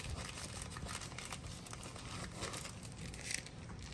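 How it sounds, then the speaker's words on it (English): Soft, close crinkling and rustling as a model rocket parachute is gently folded up by hand, continuous quiet crumpling with no talk. "And now we're going to fold it up gently."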